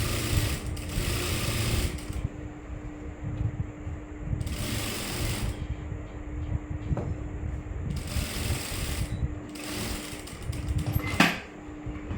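A sewing machine stitches a work blouse in several bursts of rapid, close mechanical whirring, separated by short pauses, with no talk.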